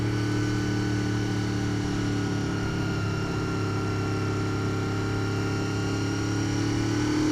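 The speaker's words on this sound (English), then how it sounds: "the engine is incredibly smooth" A 1987 Honda VFR400R NC24 motorcycle engine idles smoothly and steadily nearby, a constant low hum with a faint mechanical whine and no variation.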